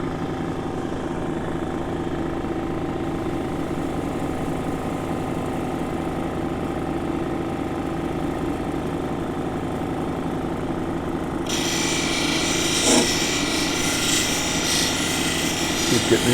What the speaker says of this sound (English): it's just the dopstick on the metal in the bottom of the tray and the vibration from the wheel